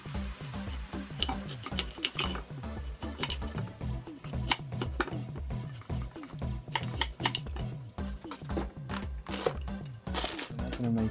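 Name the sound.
knife cutting celeriac into chips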